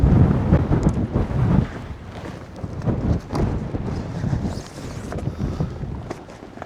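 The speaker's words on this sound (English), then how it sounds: "We are very windy, so hopefully you can hear me" Strong gusting wind buffets the microphone on an exposed hillside during a storm with 50+ mph winds, a loud continuous low roar that swells and eases in uneven surges with no talking.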